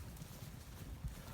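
Cows walking through a field make a few faint, dull hoof thuds on the ground, with one heavier thump near the end, under steady wind noise outdoors.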